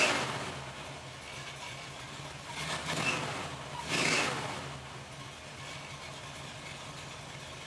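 A Small Block Chevy V8 idles steadily in park, a smooth mid-pitched engine hum with a couple of brief swells, heard alone without talk.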